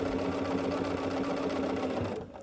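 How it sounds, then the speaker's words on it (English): A sewing machine runs steadily as it stitches a straight quarter-inch seam on quilt block pieces, a close continuous whir that stops just before the end. "we're just going to sew with a 1/4 of an inch seam allowance just straight down this piece"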